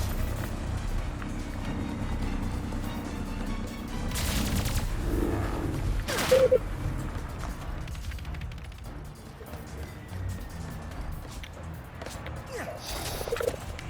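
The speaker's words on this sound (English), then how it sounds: "let's use our overpowered guns from the other playthrough" Bursts of heavy gunfire from overpowered weapons in the Ratchet and Clank Rift Apart video game, a fairly steady barrage of shots and crashes running throughout, with louder clusters partway through.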